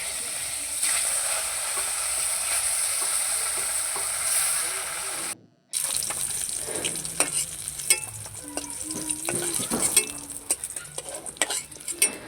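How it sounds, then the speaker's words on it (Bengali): Katla fish head and steak pieces fry in hot oil, a constant sizzle that cuts out briefly, then returns with frequent clattering of a spatula against the pan. "তো মাছের মাথাটা ভাজা হয়ে গেছে এবার চাকাগুলো ভেজে নেবো"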